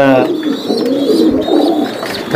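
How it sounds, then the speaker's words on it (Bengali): Danel-breed racing pigeons cooing near at hand, a soft throaty cooing that runs throughout, with someone talking over it. "এটা কি কবুতর? এটা ড্যানেল।"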